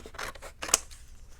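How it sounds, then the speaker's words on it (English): A couple of quick, crisp scissor snips through watercolor paper, cutting out flower shapes, close and fairly quiet. "I'm going to take a pair of scissors."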